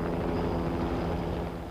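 A helicopter flying, a steady low rumbling drone that holds even throughout, fairly close and with no voices.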